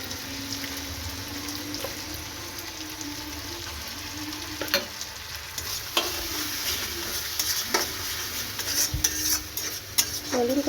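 Sizzling in a pan as tomato goes in with ginger in a home kitchen, a steady soft frying hiss punctuated by several sharp clicks and scrapes of stirring, all fairly close and moderately quiet.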